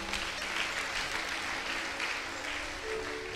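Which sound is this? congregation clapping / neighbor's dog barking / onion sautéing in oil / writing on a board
congregation clapping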